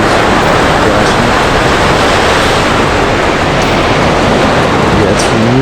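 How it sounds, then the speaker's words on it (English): Ocean surf at sunrise crashes continuously in a loud, steady roar of breaking waves, with no voices and no pauses throughout. "See the waves crashing."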